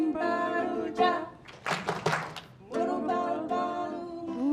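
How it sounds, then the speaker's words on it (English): Three hand claps keep time in a children's song with singing voices, the sharp bursts falling together in the middle of the clip between sung lines. "do 3 claps"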